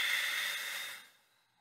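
A single long exhale during a yoga flow practice, a close, soft breathy rush of air that trails off into near silence after about a second.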